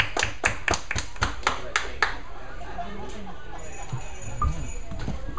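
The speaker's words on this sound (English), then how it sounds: "Let's give her a round of applause." Scattered audience clapping at a small open mic night, a few distinct hand claps ringing out in a loose rhythm before fading into murmured chatter and quiet room noise.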